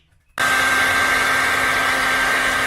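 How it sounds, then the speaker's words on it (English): A normal hairdryer switches on abruptly after a near-silent moment and blows in a steady, loud whine and whoosh close by, drying a fresh plaster patch on a small drywall hole repair. "Now we're just going to use a normal hairdryer"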